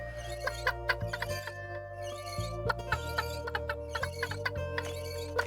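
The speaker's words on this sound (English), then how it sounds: "Help her by chasing the chickens into the coop." Chickens in the Secrets of Grindea game cluck in short chiptune-style blips over a steady game tune, a rapid scattered patter of small pecks and ticks.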